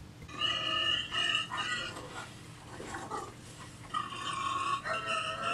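A pig oinks and grunts in a string of loud, rough, nasal calls, with a pause in the middle before more bursts, clear and close with no talking.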